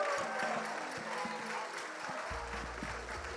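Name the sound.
audience applause for quiz participants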